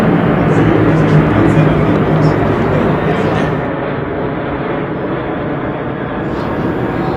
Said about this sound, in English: We'll let this plane go by before we say something else.